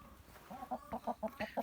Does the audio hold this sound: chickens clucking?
yes